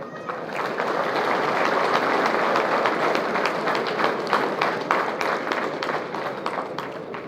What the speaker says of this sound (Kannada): ಅದಕ್ಕೆ ನೋಡಿ ಚಪ್ಪಾಳೆ ಬಹಳ ತಡ್ತಾ ಇದ್ದಾರೆ